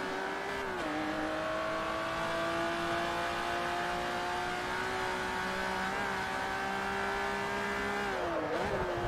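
Ferrari race car engines in Forza Motorsport 3 drone loudly and steadily at high revs, with gear shifts dipping the pitch near the start and again near the end, running alone without talk.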